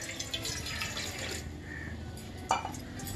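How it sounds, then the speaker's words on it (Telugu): Water pours into a pan to start a sugar syrup for bread halwa, a soft close trickle and splash with a brief louder splash near the end, and no talking. "వాటర్ పోసుకోవాలి"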